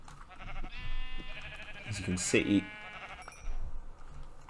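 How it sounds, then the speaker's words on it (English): Sheep bleating in the video game Minecraft, with a short bleat rising briefly above ongoing background music and game sounds while someone talks over it. "See this sheep here?"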